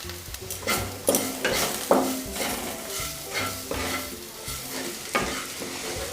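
Turmeric and chili powder fry in hot oil in a pan for a drumstick malai curry, a close, steady sizzle broken by rhythmic spatula strokes and scrapes roughly every second, with no talking.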